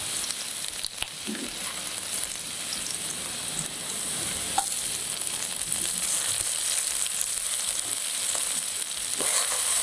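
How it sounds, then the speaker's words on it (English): Garlic and red chili sauté in hot cooking oil in a pan, giving a steady close-up sizzle with an occasional light stir or clink throughout. "heat the cooking oil in a pan. Saute garlic and red chili until fragrant."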